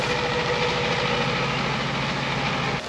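A boat engine idles with a steady low rumble, continuous and fairly loud, with no voices.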